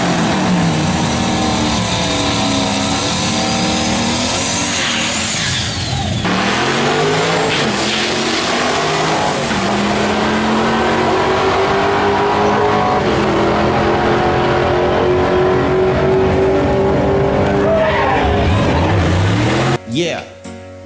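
Car fitted with a Q45 differential, Z32 twin-turbo axles and an S14 subframe accelerating hard, engine roaring and rising continuously for about twenty seconds with some tire noise, loud and close, talk mixed in.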